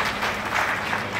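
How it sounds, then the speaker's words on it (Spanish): A short burst of steady applause from an audience at a fertilizer handout event for farmers, with a dense, even clapping texture for just over a second. "Paulo Gañuelo Rosales, a quien les pido que le demos un fuerte aplauso"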